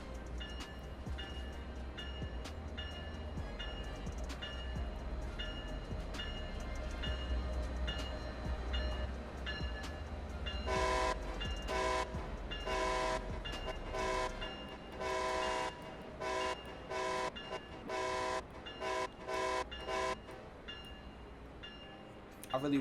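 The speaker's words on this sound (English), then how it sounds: "see if we can get a nice front shot of the train pulling in" A SEPTA ACS-64 electric locomotive pulls into a station in the game Train Sim World 2, with a steady low rumble and hum that turns into a run of rhythmic rail clicks and clatter as it arrives nearby.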